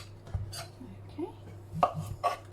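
A knife cuts a thin-skinned yellow courgette in half on a board. There are a few separate soft chops and knocks, close and fairly quiet, over a low steady hum.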